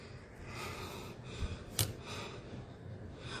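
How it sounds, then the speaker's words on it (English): Heavy, winded breathing after hip hop dancing in a beginner class, with audible gasps and one sharp snort-like exhale, close to the microphone and moderately quiet. "while I'm breathing all hard"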